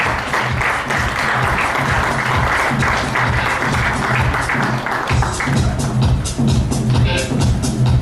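Loud, continuous applause from an audience at the Appzone Champions 2013 awards, greeting the first runner-up, a dense steady wash of many hands clapping with voices mixed in throughout.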